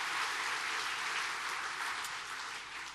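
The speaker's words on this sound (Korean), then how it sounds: "박수로 한번 격려해 주시기 바랍니다." A church congregation claps together in a dense, steady round of applause that fills the room throughout and tapers slightly at the end.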